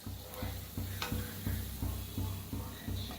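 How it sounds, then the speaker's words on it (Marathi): Chakli dough frying in hot oil, a steady low bubbling sizzle with soft rhythmic stirring or scraping pulses about every half second, close and fairly quiet. "आता हे बी तळलं गेलेलं आहे काढून घेऊया आता काढून घेऊया आवाज बघा कसा येतोय"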